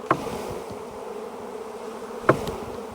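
A low, steady drone of a bee swarm buzzing together as it is shaken from a branch, with two sharp knocks, one near the start and one near the end.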